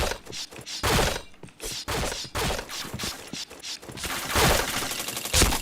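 Gunfire in a shooter video game, dense rapid bursts and volleys of shots with mechanical clatter, loud and continuous across the clip.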